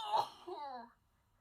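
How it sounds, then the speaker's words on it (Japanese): A single sneeze from a person with pollen-irritated sinuses: a quick breathy burst followed by a short voiced, falling tail, close and fairly soft, then quiet. "あ、くしゃみ出る。"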